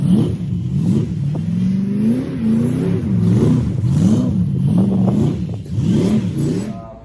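A rust-free Ford Mustang Fox body with a 5.0 V8 and 5-speed revs repeatedly, engine rising and falling in several loud, close swells with no talk.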